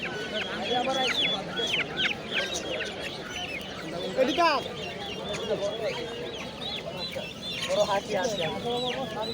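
Chicks cluck and chirp continuously at close range at a wholesale duck market, with a busy overlapping chorus of short calls and some people talking beneath.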